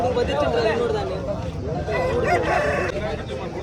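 Rooster crowing amid the busy chicken market at Mydukuru, a sharp, tall-bodied rooster nearby, with a steady hubbub of voices and clucking around it throughout.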